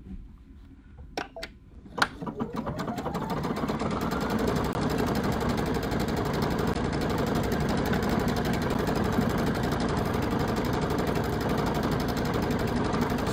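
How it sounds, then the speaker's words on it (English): A Solaris II embroidery sewing machine stitches out a design. A few clicks and beeps lead into a loud, steady, rapid mechanical whir that runs without a break. "So it's stitching out our pretty design here."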